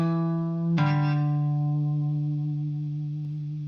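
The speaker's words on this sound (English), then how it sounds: "It should sound like this. Hammer on, slide, pull off." An electric guitar plays a hammer-on, a slide and a pull-off in a sustained, clean-toned phrase; a single plucked attack is followed by smoothly shifting pitches that ring out alone with slight effects.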